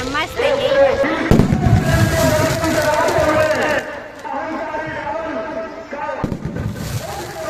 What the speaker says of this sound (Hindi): धीरे धीरे आतिशबाजी भी हो रही थी